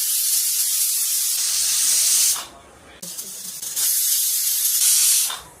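A pressure cooker holding beef hisses steam in two long, loud, close bursts of sharp spraying noise. A brief quieter gap separates them, and the second burst cuts off abruptly.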